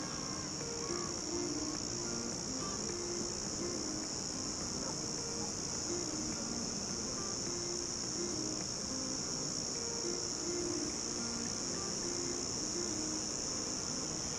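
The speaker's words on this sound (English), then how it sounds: "Well, the cicadas are out." Cicadas sing near a beach in a steady, unbroken high-pitched drone that holds at an even level throughout, with faint low outdoor rumble beneath and no voices.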